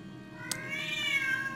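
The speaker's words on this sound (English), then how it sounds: "And it's being ruined by a loud kitty." A cat meows loudly and drawn out, a long wavering cry over a steady background hum, with a sharp click just before it.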